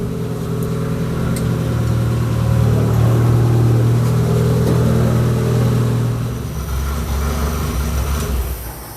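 A car engine that has just had its radiator repaired runs and idles a little high, a steady loud hum that swells slightly and then settles lower near the end.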